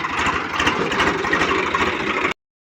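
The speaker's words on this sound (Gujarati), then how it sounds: "ફાઇનલી ટ્રેક્ટર આવી ગયું છે" A tractor engine runs at a steady idle, close and loud, with a continuous rumbling chug before it cuts off abruptly near the end.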